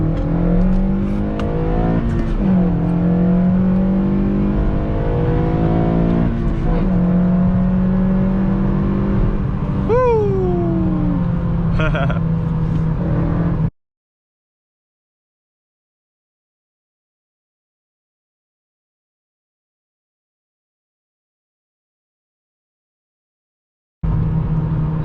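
Honda Civic Si engine given a quick rev, a loud close rumble rising to a sharp climbing whine near the middle and then dropping away, followed by a long stretch of silence before the engine noise cuts back in at the end.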